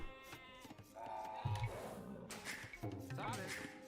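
Sheep bleat in Age of Empires, a few short wavering game bleats over someone talking, faint and mixed into the gameplay sound.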